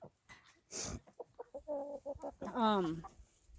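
A young rooster with salmon coloring, son of the main rooster, clucks in a run of short close calls that end in a longer drawn-out squawk, with faint voices in the background.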